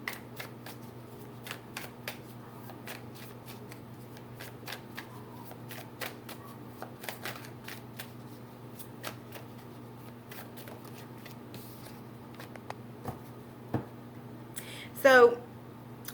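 Tarot cards are shuffled softly to pull a clarifier, giving faint papery flicks and ticks over a low steady hum, with a brief louder burst near the end.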